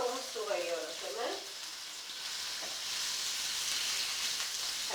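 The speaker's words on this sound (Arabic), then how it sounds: "هشوحها كده كتير جدا" Chopped chicken gizzards sizzling in a hot pan while being stirred for a stuffed home-raised chicken dish, a steady hissing fry that fills the clip, with a voice briefly over the start.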